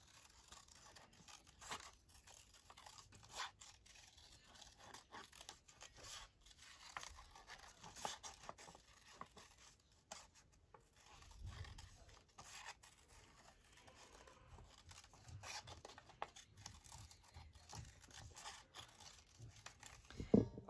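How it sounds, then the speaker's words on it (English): Scissors cut out a simple paper doily for a handmade notebook: soft, irregular rustling, rasping snips and paper crinkles, close and quiet, with no talking. "This is not a complex doily to cut out."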